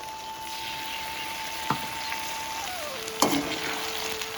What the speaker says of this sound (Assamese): এতিয়া আমি পেষ্ট কৰি লোৱা বিলাহীখিনি আমি এতিয়া ঢালি দিম